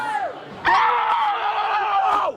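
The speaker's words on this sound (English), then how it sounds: "Screams of joy here in the Port Richmond section" A bar crowd of Phillies fans in Port Richmond, Philadelphia, screams with joy over the 2007 National League East title, a loud, close, sustained roar of cheering voices lasting a couple of seconds.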